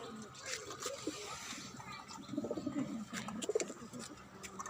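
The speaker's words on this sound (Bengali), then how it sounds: "এদিকে কবুতর আছে বাচ্চা কবুতর বড় হয়েছে" Pigeons, including young ones, coo softly in low, rolling bursts over background chatter and outdoor rooftop-garden ambience, growing a bit louder toward the end.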